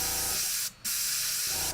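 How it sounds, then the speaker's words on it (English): Steady, loud hiss of an aerosol spray can, briefly cut off partway through, then resuming before a second short gap at the end. "did it stop spraying?"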